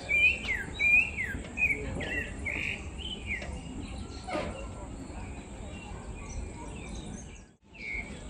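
Birds sing and chirp in a Buenos Aires nature reserve, with repeated high calls through the first few seconds over steady insect-like buzzing and a busy natural background, fairly close and clear.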